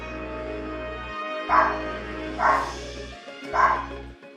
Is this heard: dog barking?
yes